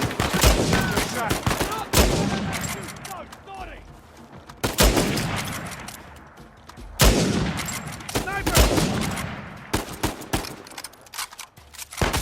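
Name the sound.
gunfire in a gun fight, Uncharted 4 video game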